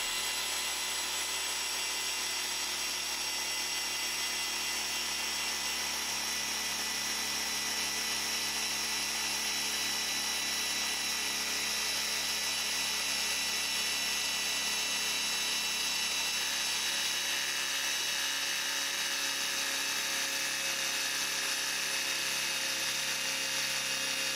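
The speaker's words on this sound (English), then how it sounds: "And this is on a polisher with a 15mm throw." A car polisher with a 15mm throw running steadily on Mustang paint with a Eurofiber 50/50 pad and Kalkemi H9 compound, giving a continuous whirring drone that holds at an even level throughout.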